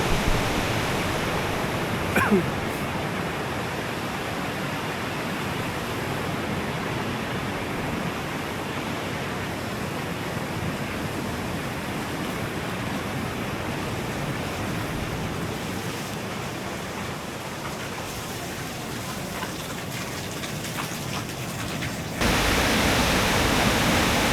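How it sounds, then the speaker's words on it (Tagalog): Hot spring water in the Alma Arasan gorge flows in a loud, unbroken rush close by, a dense steady wash of noise that shifts slightly near the end. "Ito na yung mga hot spring, guys."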